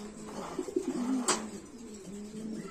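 Lahore pigeons coo in low, repeated rolling calls close by in Comilla, Bangladesh, with a brief sharp click partway through and quiet background.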